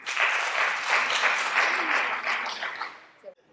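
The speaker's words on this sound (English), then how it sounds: "I feel like he deserves double applause for that." An evening lecture audience claps for several seconds, a dense, moderately loud round of applause that tapers off near the end.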